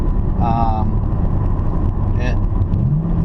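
Chevrolet Camaro SS pushrod V8 engine, a low, steady rumble close by, with a brief rise in pitch near the end and voices talking over it.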